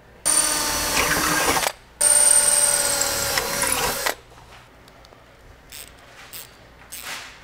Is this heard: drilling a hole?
yes